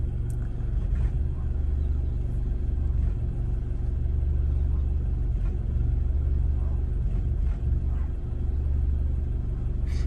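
Car engine idling steadily after a rev while a MUCAR 892BT diagnostic tool reads it, a constant low rumble that is close and loud and holds even with no spikes, with faint speech in the background.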